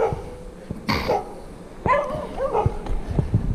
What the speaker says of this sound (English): The neighbor's dogs like it.